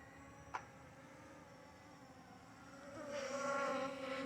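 Veeniix V11Air drone spinning in flight, a thin whirring buzz of small propellers heard faintly at a distance, rising in pitch and volume toward the end after a single sharp click early on.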